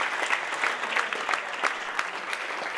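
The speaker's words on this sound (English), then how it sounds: "Can you put your hands together for our panel" A Lean Startup Melbourne pitch night audience applauds the panel with steady, dense clapping from a full room.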